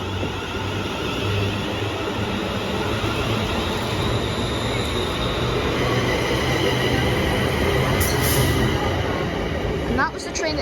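A Class 380 electric train passes through Kilwinning station with a steady, loud rumble of wheels on rails that lasts throughout, ending in a brief high metallic squeal.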